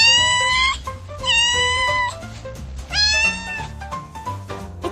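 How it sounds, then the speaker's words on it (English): A kitten meows repeatedly, loud and close: three long, high, drawn-out mews with short pauses between them, followed by softer fragments, with no talking. "A baby cat is called a kitten."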